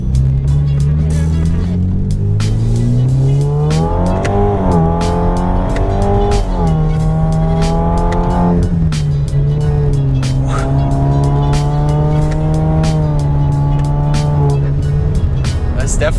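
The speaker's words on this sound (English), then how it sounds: "just get straight turbo sounds coming out from the interior of the car" Loud engine revving up through gears of a turbocharged 2.0 Genesis Coupe with 8-speed automatic, rising pitch sweeps and turbo whine, heard from inside the car, continuous and close.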